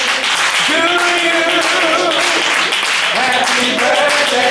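Hands clap steadily throughout a surprise 65th birthday party, with the clapping blended under loud group singing that fills the whole stretch.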